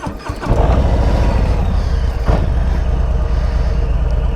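A Harley-Davidson Street Bob 114 motorcycle cranks and fires up, then settles into a loud, steady, deep idle close by, with a brief throttle blip partway through.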